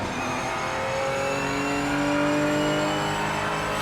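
An old Porsche Cup race car with no ABS or traction control roars through the Derby round of the PMR racing game, its engine revving steadily and loudly, with a brief hint of tire squeal.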